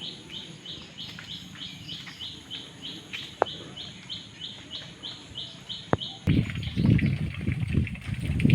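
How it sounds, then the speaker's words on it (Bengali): A bird repeats a bright, evenly spaced chirp again and again in the early morning after heavy rain, then a louder, rumbling background noise takes over near the end. "সকালবেলা পাখির ডাক কার কার শুনতে ভালো লাগে?"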